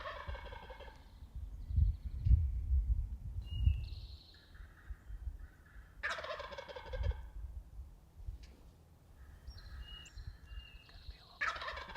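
A male wild turkey gobbles repeatedly in a Michigan woodland during a spring hunt, several rattling gobble bursts at moderate distance, separated by quiet pauses with low rumbling background noise.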